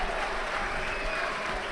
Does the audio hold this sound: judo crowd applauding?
yes